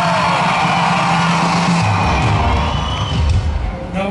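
A rain-soaked outdoor concert crowd at a fairground screams and cheers together in a loud, sustained roar, dense and continuous with shouts rising and falling throughout.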